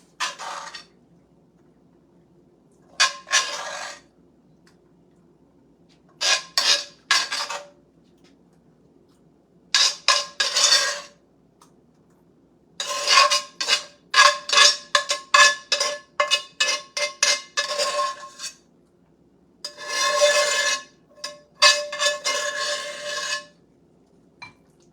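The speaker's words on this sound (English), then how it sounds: "I am just going to kind of stir these around a little bit." Orzo bake ingredients for a creamy garlic chicken dish being stirred in a baking dish, with spaced bursts of scraping and clinking from a utensil against the dish, close and clear against a quiet background.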